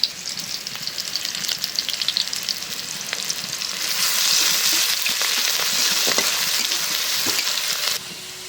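Onions fry in a pan with a continuous close sizzle that grows louder and fuller midway, dotted with light stirring clicks, and no one speaks.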